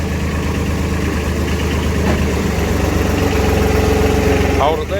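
A car engine idles steadily and close by as the car creeps forward to pull a chain tight, a constant low rumble that stays even throughout.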